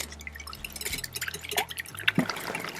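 Eggs whisked by hand in a bowl, a quick, irregular run of wet sloshing and light tapping strokes, close and fairly soft, with no one talking.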